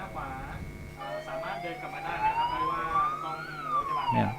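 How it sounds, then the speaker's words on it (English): A rising and falling electronic siren wails at a horse racing track in Thailand during a stewards' inquiry, heard at a moderate distance over broadband crowd and venue noise with a commentator talking. "we can hear the siren"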